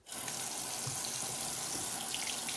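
Tap water runs steadily into a sink while makeup brushes are scrubbed with soap, a continuous close splashing rush with no talking.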